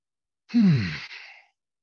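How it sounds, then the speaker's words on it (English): A deep exhale during a hatha yoga class, one long breathy sigh with a voiced start that trails off over about a second, close and alone with no talk. "Take an adjusting breath."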